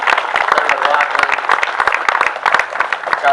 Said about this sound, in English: we give them a nice round of applause for coming here today